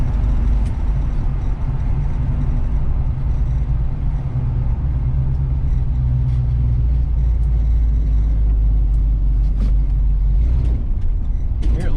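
Car engine loading up under acceleration on a test drive, with a heavy continuous low rumble and drone throughout, a voice faintly present beneath the engine noise.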